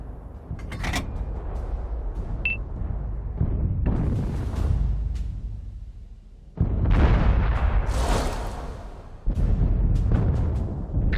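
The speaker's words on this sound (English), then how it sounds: "Выстрел. Броня не пробита." Tank cannon fire in World of Tanks: heavy booming shots with rumbling tails, several loud blasts spaced through the stretch amid lighter battle noise.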